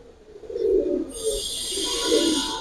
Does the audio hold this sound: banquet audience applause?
no